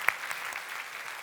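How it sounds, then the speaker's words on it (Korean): Church congregation clapping in a brief, faint burst of applause, a sharp clap at the start followed by scattered soft hand claps. "우리 하나님 예수 그리스도께 박수로 영광을 돌려드립니다"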